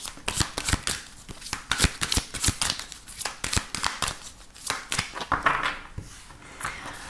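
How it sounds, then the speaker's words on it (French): Tarot cards being shuffled up close, a rapid run of crisp riffling snaps and flicks in uneven bursts, fairly loud and alone without any talk. "on va prendre seulement 3 cartes pour voir les énergies importantes pour vous"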